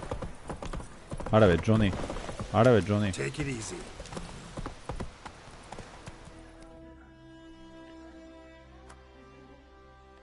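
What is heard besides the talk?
horse galloping in Call of Duty Warzone video game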